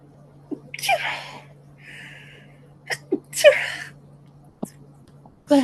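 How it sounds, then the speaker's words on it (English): A person sneezes twice in a quiet room, with short sharp bursts and a breathy intake between them, fairly close, over a low electrical hum. "Bless you."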